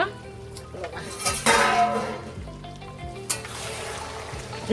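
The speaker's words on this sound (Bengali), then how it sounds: "এবার আমি ঢাকনটা উঠিয়ে নেব" A pot lid lifts off mutton curry with metallic clinks and scrapes, then a spoon stirs the thick curry in the pot, close and moderately loud, while a voice talks over it.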